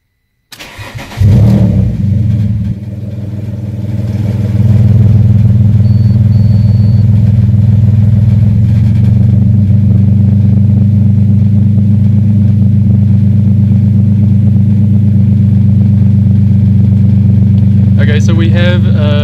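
An Alfa Romeo 147 GTA engine, just after an ECU repair, cranks and fires about a second in, then settles into a loud, steady, close-up idle that runs to the end.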